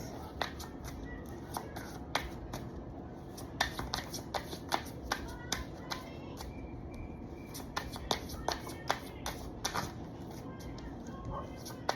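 Playing cards shuffled by hand, a rapid run of crisp riffling clicks and taps over a steady low background hum, fairly close but not loud.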